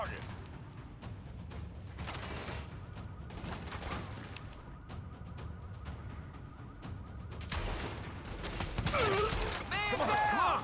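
Sustained video-game gunfire laying down cover fire, with dense overlapping bursts and shots running throughout, mixed with mechanical clanks and impacts, and the sound growing louder and busier toward the end.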